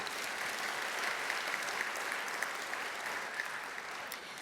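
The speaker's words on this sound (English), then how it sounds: "Can we please give him a clap for that?" Audience clapping at a public forum on the Indigenous Voice to Parliament, honouring a Senior Australian of the Year, a steady, moderately loud wash of many hands with a few sharper claps standing out, no talking.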